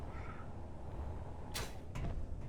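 Spaceship doors sliding open in Space Engineers, two quick airy whooshes over a steady low background hum, moderately close.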